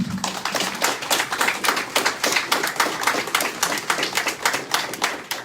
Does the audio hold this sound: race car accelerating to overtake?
no